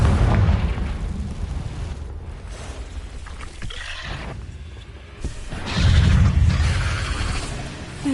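A Confringo spell explosion in a wizarding video game lands as a deep, rumbling blast against a busy game soundscape, swelling loudly toward the end with a broad low boom.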